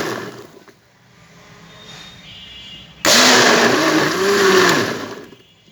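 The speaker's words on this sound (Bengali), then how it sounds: "ব্লেন্ডারের সাহায্যে এটা এখন কিছুক্ষণের জন্য ব্লেন্ড করব।" An electric blender whirs loudly to life partway through, churning yogurt lassi with green mango, black salt and green chili in a steady, close roar that tapers at the end, after a quieter lead-in.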